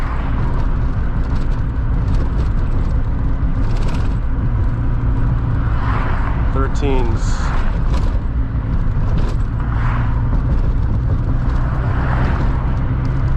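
A VW MK2 with a 16V engine breathing through CBR900RR carburetors hums steadily at light throttle, a loud, constant in-cabin drone with rough road rumble and a few faint rattles.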